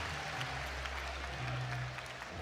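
Dense applause from a college wrestling crowd at an Iowa State vs Stanford dual meet, a steady wash of clapping honoring wrestler Daniel Cardenas, with a low commentary voice underneath.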